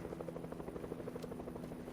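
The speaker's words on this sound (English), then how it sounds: "oh, just hear a helicopter" A helicopter in a video game during an esports summer camp match gives a steady, rhythmic rotor thrum, moderately loud and continuous with no talking over it.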